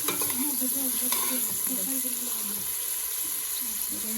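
Spice paste for a Saudi Arabian-style biryani fries and is stirred in a pan, making a constant sizzle with scraping stir strokes, while a faint voice sits in the background.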